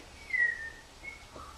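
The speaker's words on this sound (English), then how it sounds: "and I love to whistle" A short, bright whistled tune rises and fades over quiet stage ambience during a children's theatre performance of Stuart Little.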